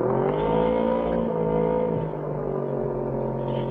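Motorcycle engine held at high throttle on an offroad trail in Abra de Ilog, Mindoro, a loud, steady droning whine that dips slightly midway and then holds at a constant pitch.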